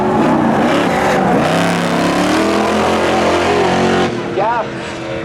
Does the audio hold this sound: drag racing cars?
yes